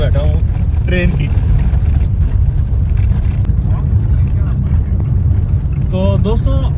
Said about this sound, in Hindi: सड़क कोई इतनी खास नहीं है, इसलिए गाड़ी की आवाज़ ऐसे आ रही है कि मैं 3rd क्लास बोगी में बैठा हूँ ट्रेन की।